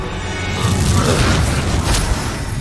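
Confringo spell explosion in the video game Hogwarts Legacy, a loud sustained booming blast with crackling, rumbling texture that swells and holds for a couple of seconds.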